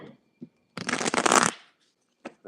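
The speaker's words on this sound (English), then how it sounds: "Okay, got to shuffle a little bit more." Tarot cards shuffled by hand in a quick, dense burst of riffling and flapping that lasts under a second, bracketed by brief soft handling noises in an otherwise quiet room.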